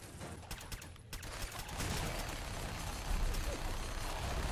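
A minigun in Fallout 4 spins and fires in a sustained, buzzing stream, starting with a few separate rattles before settling into a dense, continuous roar that stays fairly quiet overall.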